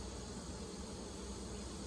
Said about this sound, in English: we still got a ton of bees in here